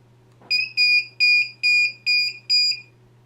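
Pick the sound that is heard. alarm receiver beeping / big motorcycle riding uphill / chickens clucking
alarm receiver beeping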